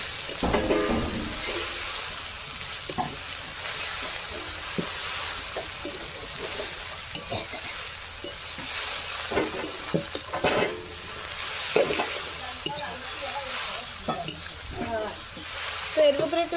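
Oil and base ingredients for a greens dish sizzle steadily in a pan while a spatula scrapes and knocks in irregular strokes, close and clear with no talking.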